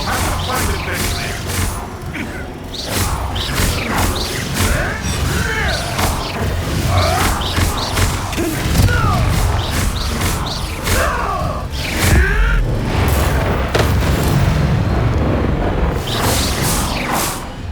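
In the Hogwarts Legacy video game, a Confringo fire-blast spell erupts amid dense combat noise, with whooshes, booming impacts and grunting voices layered over a continuous roar of battle sound.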